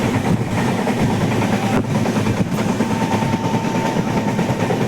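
A passenger train moving on its route past Jabalpur toward Nepal, heard from inside as a loud, continuous rumble with rhythmic rail clatter and a faint steady whine, no talk.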